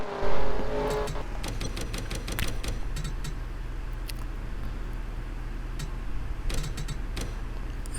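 Race cars in the NASCAR Racing 2003 video game drone past in a steady engine roar, with a louder burst at the start and another pass near the end, plus faint ticking over the low rumble.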